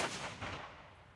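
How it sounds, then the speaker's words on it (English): Ceremonial cannon fire at an outdoor Memorial Day ceremony at Fayetteville National Cemetery, a single deep booming report that fades into a long rolling echo, heard at a moderate distance with no talking. "It featured cannon shots,"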